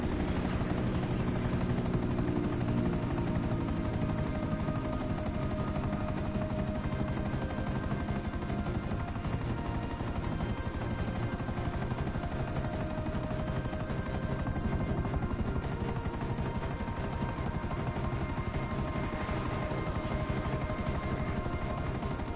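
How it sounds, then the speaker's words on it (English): Helicopter rotor drone and engine whine in GTA Online, steady and loud throughout with a continuous low thrum, with faint gunfire-like bursts mixed in. "Okay, let's take these helicopters here."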